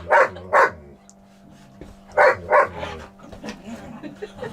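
Two dogs play-fight aboard a narrowboat, giving out sharp paired barks and yips in short bursts with growly pauses between, loud and close.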